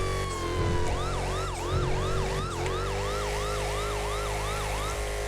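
A loud electronic yelp siren from a vehicle in the video game FiveM cycles rapidly and steadily over a low engine rumble, continuing throughout without any talking.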